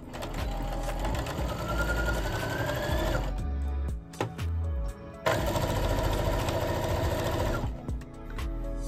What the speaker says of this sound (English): So we're just gonna quickly serge everything